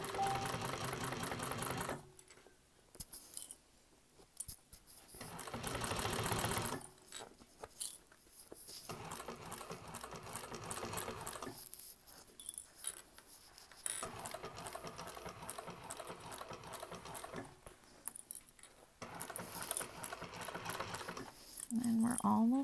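A sewing machine stitches a bowler bag in repeated close bursts separated by brief pauses, then back stitches at the end, the mechanical whir continuing under occasional speech.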